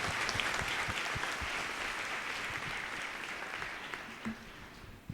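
Steady applause from a church congregation, a dense patter of many hands that holds evenly throughout and fades slightly toward the end.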